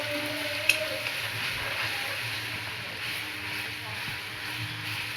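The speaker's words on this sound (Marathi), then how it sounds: "आलं लसूणची पेस्ट टाकून घेतले आणि छान ह्याला तेलामध्ये मिक्स करून घ्यायचे" Ginger-garlic paste frying in oil with cumin for salted brinjal curry gives a steady, soft sizzling hiss that stays even throughout, with one brief tick near the start and no talking.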